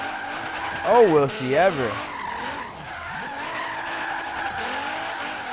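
Tires squeal loudly while a slammed JDM Nissan 240SX drifts in Forza Horizon 3, with wavering, rising-and-falling screeches over engine drone. A person talks and whoops over the game sound.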